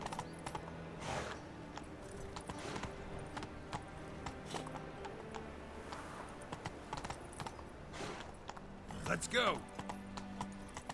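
Hooves clip-clop steadily as a horse runs in The Witcher 3, a fairly quiet rhythmic pattern, with a voice speaking briefly and a short whinny-like burst near the end.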